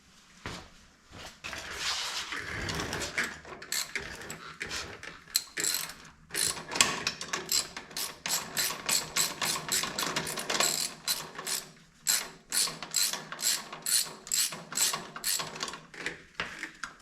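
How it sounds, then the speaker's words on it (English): A ratchet wrench turns bolts on an Oliver Super 88 tractor's PTO clutch, clicking in rapid bursts of pawl ticks with short pauses between strokes, loud and close. "I might be able to get a ratchet in there."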